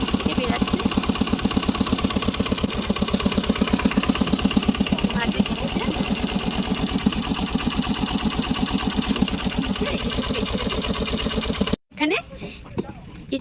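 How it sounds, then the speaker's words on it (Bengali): A clay-grinding pug mill at a brick kiln churns with a steady, rapidly pulsing mechanical drone, loud and close; a person talks over the machine, and it cuts off abruptly near the end. "এনারা মাটি এর মধ্যে পেশাই করছে স্মুথ করছে মাটিটা"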